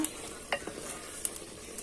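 Duck meat is stirred and sautéed in a clay pot: a couple of soft scraping strokes over a faint, low sizzle, quiet and brief.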